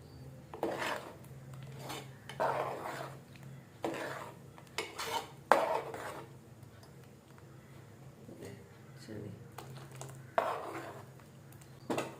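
A spoon stirs a thick Goan pineapple sasav mixture in a metal pot, giving scattered scraping and clinking strokes at close range under quiet background hum.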